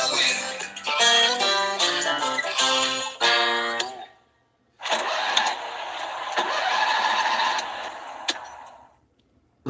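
A VW van engine cranks and catches after a pause. Music fills the first few seconds, then the motor runs loud and steady nearby before cutting off.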